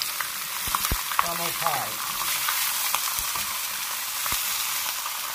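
St. Louis style pork ribs fry over medium-high heat in a pan, giving a steady, close sizzle with a few scraping stirs and clacks. A voice speaks briefly under it.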